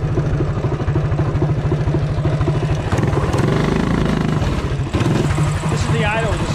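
A Predator 212 small engine fitted with a Dyno CL2 cam idles loudly and close, with a fast, even chugging pulse that briefly shifts and roughens twice before settling.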